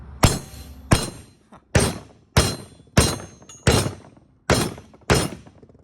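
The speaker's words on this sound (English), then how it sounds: "we're just grabbing a hammer to coax this thing to come out" Seven sharp metal hammer blows strike a coilover bearing on a Nissan Titan's Radflo suspension to drive it out, evenly spaced and loud, each with a short ringing decay, with no voices.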